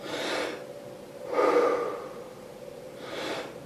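Deep Wim Hof method breaths, three strong rushing inhales and exhales at a steady, unhurried pace, close and clear with nothing else heard.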